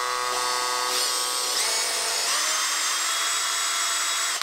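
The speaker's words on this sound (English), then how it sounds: "It has the usual features you'd expect from a combi drill, two speed settings, drilling, drill driver and hammer settings, variable torque, a 13mm keyless chuck" A Makita LXT cordless combi drill with a brushed motor whirs steadily at high speed with a bright whine, running alone and close for about four seconds before it cuts off.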